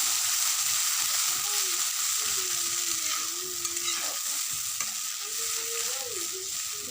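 Masala with ginger and turmeric fries in a pan in a home kitchen, a continuous crackling sizzle with occasional stirring scrapes while someone talks quietly over it.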